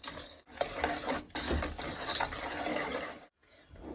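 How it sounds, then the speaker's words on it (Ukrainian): A spoon or whisk stirs milk and egg custard for a bird's milk cake in a bowl, giving steady, close scraping and swishing that runs almost continuously, with brief pauses. "Все добренько перемішуємо."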